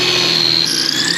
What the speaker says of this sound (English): we're gonna take and drill right through everything